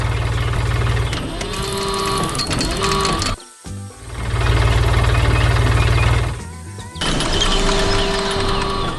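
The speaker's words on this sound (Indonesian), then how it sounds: "traktor biru dengan loader sedang beraksi di tengah kebun hijau" Engine of a blue cartoon tractor with a front loader working in a green farm field, a loud mechanical rumble with rattling tones that cuts out briefly twice before resuming.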